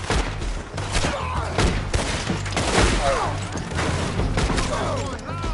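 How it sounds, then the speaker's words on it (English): Gunfire crackles in Red Dead Redemption 2 as a dense, close volley of shots with thuds and clatter, running almost without a break. "I'm firing!"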